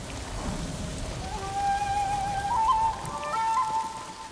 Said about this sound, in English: we're approaching from the other side, and it's raining